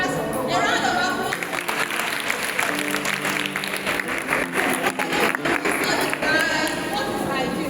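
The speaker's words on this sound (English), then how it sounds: "a round of applause" Audience at a girls' education event applauding, a loud burst of clapping that swells and thins over several seconds, with voices heard in the background.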